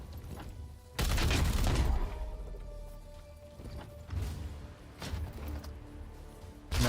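A unit's gunfire in the Warhammer XCOM strategy game, one loud burst of shots followed by a few softer blasts and impacts over a steady game background, with no talking.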